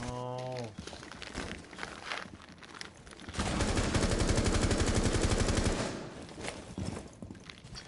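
Gunfire in a first-person shooter video game: a rapid automatic burst of many close, loud shots lasting a few seconds, framed by footsteps and other game sounds before and after.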